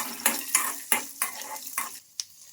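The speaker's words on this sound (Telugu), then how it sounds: "ఇంకా ఈ పల్లీలు కూడా బాగా ఫ్రై చేసుకోవాలి" Peanuts fry with chillies in a pan, stirred in a quick series of sharp scraping strokes over a light sizzle, then a pause and one final scrape.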